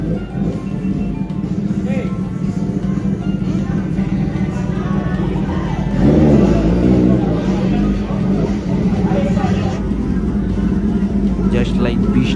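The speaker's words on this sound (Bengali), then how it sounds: "সাউন্ড কি ভাই সুপার বাইকে" Kawasaki ZX10R superbikes lined up on an Old Delhi road rev their engines in a loud, continuous roar that swells midway, with crowd babble mixed underneath.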